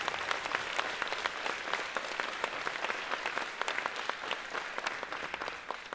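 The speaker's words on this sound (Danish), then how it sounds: "Mine damer og herrer, giv en ekstra stor hånd til Aurelie og Victoria, Orson og Desdemona." A circus audience claps steadily and enthusiastically, a dense patter of many hands continuing for several seconds without talking.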